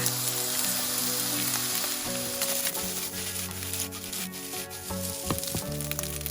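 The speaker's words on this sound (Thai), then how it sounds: "หลังจากนั้นผัดส่วนผสมจนเข้ากันดีค่ะ" Rice stir-fried with bacon and egg in a pan, a moderate crackling sizzle with spatula scrapes and taps against the pan over several seconds.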